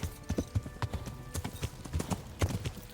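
Horse hooves galloping in the medieval game Kingdom Come: Deliverance, a fast steady clip-clop rhythm, close and clear with no talk over it.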